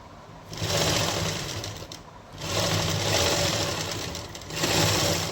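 A sewing machine runs in three steady bursts while stitching piping onto fabric, its motor whirring loudly with short pauses between runs and no talking.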